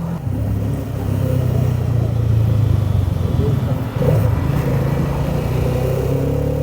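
A 2024 Hero Karizma XMR motorcycle with a slipper clutch riding on the road, its engine droning loudly and steadily with a brief dip in pitch mid-ride as gears shift, plus rushing wind noise.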